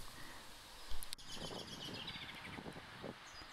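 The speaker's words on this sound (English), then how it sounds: "You can just hear the birds in the trees." Faint bird chirps and calls drift from tall trees in spring over a soft outdoor hush, with a brief rustle or knock near the start.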